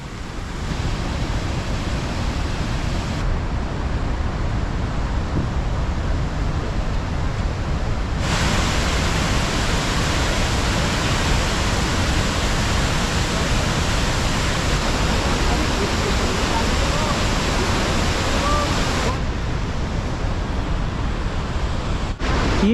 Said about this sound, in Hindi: ये चित्रकूट वाटरफॉल,